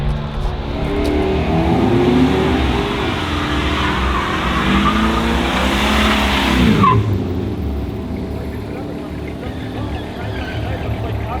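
A drag-racing Datsun 280ZX with a 350 Chevy engine roars loudly with shifting engine tones and a tire squeal, then the noise falls away. A voice talks over it.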